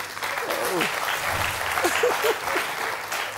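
Audience at a comedy show breaking into steady applause, dense clapping sustained throughout with a few voices heard underneath.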